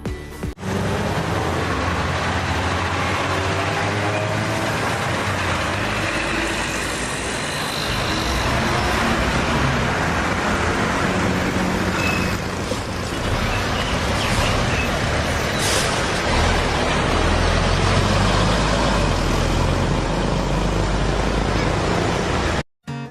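Old double-decker bus rumbling loudly and steadily nearby with deep engine drone, punctuated by hissing air-brake releases, continuous for over twenty seconds before cutting off abruptly.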